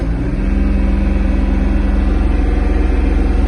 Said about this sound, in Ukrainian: Ось у нас перша. Тут у нас перша, реверс вперед. Поїхали.